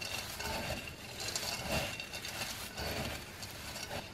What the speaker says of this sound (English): Now we're just going to mix it well.